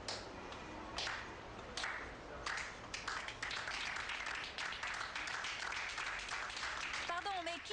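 Applause from a small group erupts in bursts during a scene in a television drama, with talk heard over the clapping throughout.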